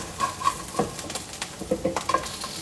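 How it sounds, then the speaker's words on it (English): A metal spatula stirs food frying in a pan, giving soft scrapes and light clinks over a faint sizzle in a quiet setting with no talk. "I'm actually going to use a metal spatula on this."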